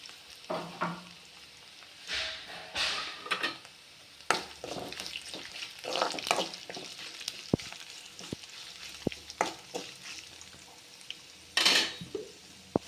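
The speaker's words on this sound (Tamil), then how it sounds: "அந்த பூண்டு மட்டும் கொஞ்சம் வதங்கிட்டோன்னு நம்ம இப்போ அந்த மசாலாவை ஊற்றிக்கலாம்." Spiced masala goes into a pan of frying garlic for a coconut-free curry, soft sizzling beneath scattered clinks and scrapes of a spoon against the pan, with intermittent louder splashes and stirring bursts.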